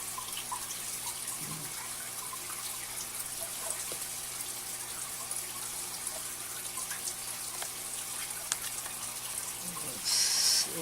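Water trickles faintly and continuously through a drip line for acclimating newly unboxed Teleocichla cichlids, a soft wash with scattered small drips and a brief louder splash near the end.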